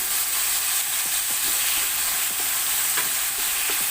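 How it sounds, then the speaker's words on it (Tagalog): Garlic, onion and tomato sautéing in a hot pan give a steady, close sizzle, with a few scrapes of a utensil stirring through the broad hiss. "Ayan, gisa-gisa lang tayo mga B. Ang ating bawang, sibuyas, kamatis."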